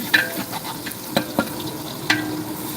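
Green chillies frying in hot oil, with a soft steady sizzle and a handful of sharp scraping clicks from stirring, close by and with no one talking.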